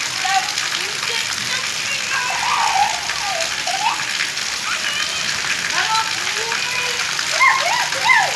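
Steady evening rain in Wankaner hisses and patters on surfaces while voices speak over it, the downpour a constant wash in the background.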